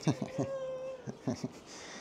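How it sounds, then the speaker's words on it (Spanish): A house cat meows indoors in a short, close sequence of calls, with people talking nearby. "Esperar que le voy a abrir al gato. Pasa, Cat"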